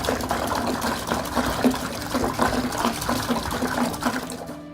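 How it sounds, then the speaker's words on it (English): Vinegar gushing into a bucket for cleaning a tankless water heater, a loud continuous splashing fill with rhythmic sloshing that lasts several seconds before cutting off. "we'll need to fill the bucket with vinegar."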